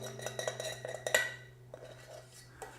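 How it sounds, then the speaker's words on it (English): A utensil scraping sauce out of a pan, a rapid run of clinking, dragging metal strokes with one sharper clink, then a few sparse softer scrapes over a steady low hum. "Make sure to get every last bit of sauce"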